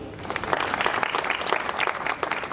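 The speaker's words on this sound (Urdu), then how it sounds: "میں چاہوں گا کہ ہم سب ایک دوسرے کے لیے تالیاں بجائیں۔" Audience clapping at a Minority Day conference in Karachi, a short burst of dense, fairly soft applause from a seated crowd, steady throughout with no talk over it.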